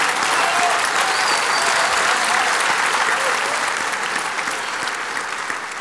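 Steady, loud audience applause at a stand-up comedy show, a dense wash of many hands clapping throughout that fades slightly toward the end.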